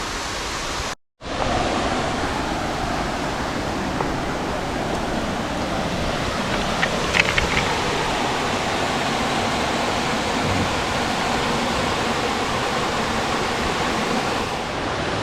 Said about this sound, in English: It's a small kind of quaint little, I wouldn't call it a waterfall, more like a spring